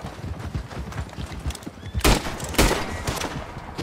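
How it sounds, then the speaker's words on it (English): Gunfire in the video game Friday the 13th: The Game, with two loud, sharp shots close together over a busy background of footsteps and thuds. "He's still shooting at me!"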